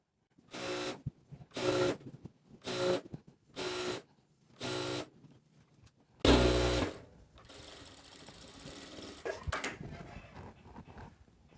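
Sewing machine stitching a bolster pillow cover: six short bursts of machine stitching in a steady on-off rhythm, then a longer louder run followed by quieter fabric handling and mechanical clatter, close and clear with no talk.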